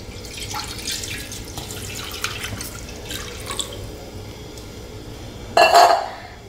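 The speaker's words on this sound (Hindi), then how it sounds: "ये हमने कढ़ाई रखी, इनमें हम ये 1 लोटा जो दूध है इसमें हम डाल देंगे।" Milk is poured from a lota into a kadhai sitting on a gas stove, a brief liquid splash and gush near the end, following soft clinks and faint dripping over a quiet background hum in the kitchen.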